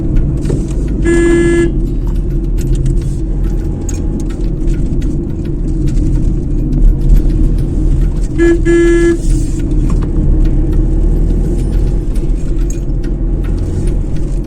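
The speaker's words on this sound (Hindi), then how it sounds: "लेकिन हॉर्न जरूर बजाना चाहिए जिससे कि दूसरी तरफ से आने वाली गाड़ी को भी आइडिया हो जाएगी" A car horn honks on a mountain road in Uttarakhand on the way to Yamunotri, two short loud toots several seconds apart over a constant engine and road rumble from inside the vehicle.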